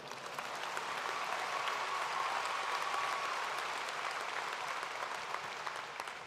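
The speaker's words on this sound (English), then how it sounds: "We can clap again." Sustained audience applause at a university commencement ceremony, a dense wash of many hands clapping steadily for about six seconds, fading in at the start and holding evenly without talk.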